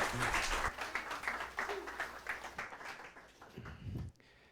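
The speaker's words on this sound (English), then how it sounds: "Let's give a wave of applause for Joe Oliver." Audience applause welcoming speaker Joe Oliver, an initially full round of clapping that thins into separate claps and fades away, ending in near quiet with a faint voice at the close.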